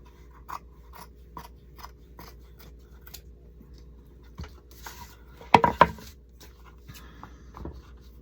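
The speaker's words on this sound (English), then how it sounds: "I don't have to trim that off, but I'm going to some." Scissors trim pieces for a gingerbread wall pocket Christmas craft: a string of small, close snips in a loose rhythm, with a brief louder rustle of handled material midway.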